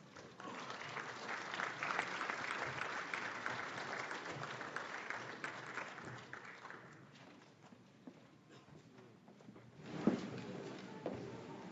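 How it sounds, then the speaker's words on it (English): Crowd applause at a Martin Luther King Jr. birthday celebration event, steady clapping through the first seven seconds, then thinning into scattered claps and murmuring. "So give yourself a round of applause"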